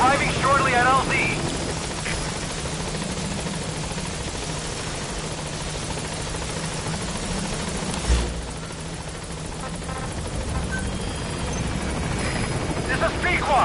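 Helicopter arriving at a landing zone in Metal Gear Solid V, a loud continuous rotor roar filling the whole clip, with radio-style voices talking over it.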